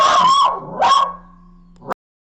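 An anxious dog barks indoors: two sharp, loud yips close together, then a short whining tail that ends abruptly.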